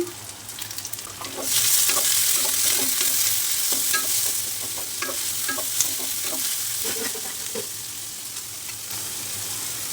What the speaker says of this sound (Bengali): কাঁচামরিচ দিলাম রসুন দিলাম চিংড়ি মাছ দিলাম